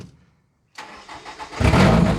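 A Toyota demolition derby car engine cranks after a brief silence, then catches and roars up to a loud, rough idle close by.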